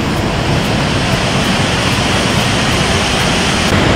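Pepina Falls near Cairns, a remote waterfall, roars as a loud, steady wash of broadband rushing water that fills the scene without a break.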